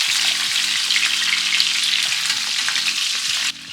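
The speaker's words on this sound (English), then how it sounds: "I'm just trying to get a bit of crispy skin." Fish sizzles skin-side down in a hot pan over high flame, a loud, steady frying hiss that fills the clip and cuts off sharply near the end.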